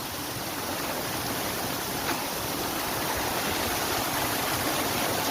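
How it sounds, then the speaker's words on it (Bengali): Water pouring out through a closed lock gate into a river in the Sundarbans near Piyali Island, a steady loud rushing roar like a small waterfall, continuous and close with no speech. "এখান থেকে জল বেরোচ্ছে"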